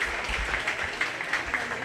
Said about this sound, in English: Go ahead and give all those kids a big round of applause